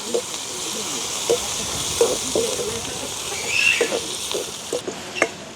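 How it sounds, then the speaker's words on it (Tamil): Onions and dried red chillies fry in hot oil with curry leaves, giving a steady hiss with scattered pops and crackles that rise and fall throughout, close and moderately loud. "வெங்காயம் செத்தலெல்லாம் நல்லா பொரிஞ்சிட்டுது."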